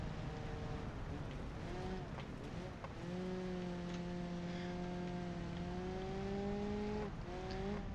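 A car races around a dirt track in a driving video game, its engine droning loudly with rising and falling revs and gear changes, no talking over it.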